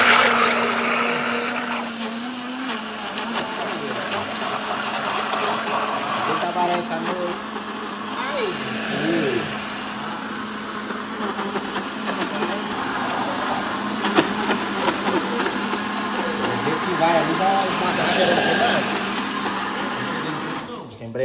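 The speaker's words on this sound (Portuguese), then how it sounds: "Acho que a embreagem do liquidificador foi pra cima." A blender whirs continuously while blending a Yakult milkshake, a loud motor drone that persists for the whole stretch as people talk over it.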